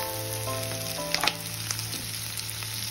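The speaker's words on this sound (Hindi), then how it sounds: "इसको थोड़ा ब्राउन होने तक भून देंगे" Chopped tomato and capsicum sizzle steadily in a hot pan, with a constant frying hiss and a few brief clinks and scrapes of stirring. No one speaks.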